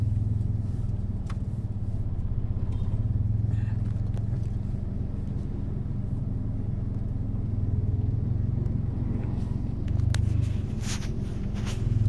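Road traffic outside Fisher Mall on Quezon Avenue: a continuous rumble of passing cars and motorcycles with engine drone, heard nearby and steady.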